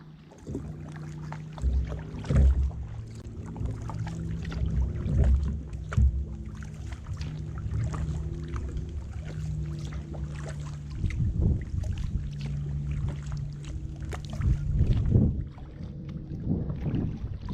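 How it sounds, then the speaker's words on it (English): Steady kayak paddling along a river in Collier Seminole Park, soft rhythmic water swishes and drips under a continuous low rumble of wind against the microphone, close and fairly constant throughout. "I'm going to keep paddling for a while"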